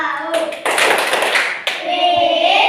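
Second-grade children in an Indonesian primary classroom clap a chant rhythm in short bursts, their voices shouting along between the claps, close and loud.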